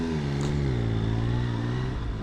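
A Triumph Trident 800 motorcycle running on its standard exhaust gives a steady, raucous mid-pitched drone that climbs slightly in pitch, heard close and alone with no talk.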